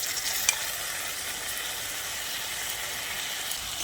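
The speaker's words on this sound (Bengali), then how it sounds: "এবার মুসুর ডালটাকে মশলার সঙ্গে ভালো করে একটু কষিয়ে নিতে হবে।" Masoor lentils, washed and drained, sizzle softly as they are stir-fried with spice paste for a kolmi shak dish, a steady, even hiss with one brief clink near the start and no voices.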